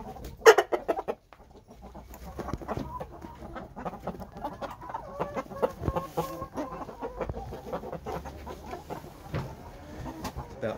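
A Shamo stag, a young gamecock about 8 months old, clucks in short bursts, with scattered clicks and farmyard noises close by and a quiet, sparse background.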